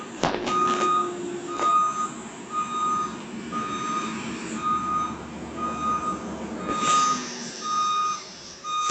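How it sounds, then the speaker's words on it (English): A garbage truck's reversing alarm beeps steadily during curbside trash pickup, evenly spaced electronic tones over a low diesel engine rumble, with clanks and a metallic screech near the end. "you guys get to listen to the garbage pickup"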